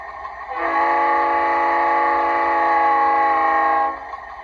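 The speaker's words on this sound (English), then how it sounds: "they have the quillable horn as well, so the push on the horn" A Märklin Trix ALCO F7 model train's quillable horn sounds one long, steady, multi-tone blast lasting about three seconds, loud and close, with no talking.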